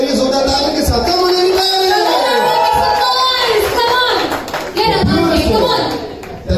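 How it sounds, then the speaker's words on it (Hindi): Clapping from the audience at a fashion show breaks out as a guest is welcomed. A host talks loudly over it the whole time, with crowd chatter and scattered claps underneath. "पहले उनका वेलकम करिए जोरदार ताली के साथ"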